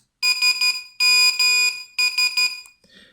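Nokia 6110 message alert tone: three bursts of bright, loud electronic beeps, each a rapid cluster of pulses about a second apart, ending in a faint trailing blip.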